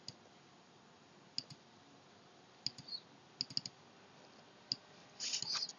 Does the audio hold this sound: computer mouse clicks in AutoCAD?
yes